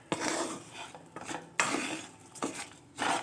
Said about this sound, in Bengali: চালটা ভালো করে ভাজতে হবে।